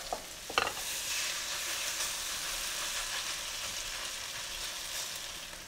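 Potato pancakes fry in a pan with a constant close sizzle, opening with a few spoon clinks and scrapes as the mixture goes in, then a steady hiss alone.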